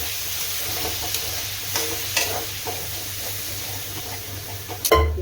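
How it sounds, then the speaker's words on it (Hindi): Water poured into a pan of roasted spices for a no-onion, no-garlic gravy, giving a steady hiss and sizzle with faint stirring and a louder clatter near the end. "अब इसमें हम पानी डाल देंगे।"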